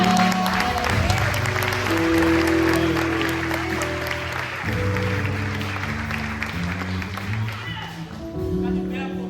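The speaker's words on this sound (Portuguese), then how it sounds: "Você pode aplaudir para Jesus?" A church congregation claps in a sustained wash of applause under loud keyboard music and sustained tones, with a voice speaking over it during the service.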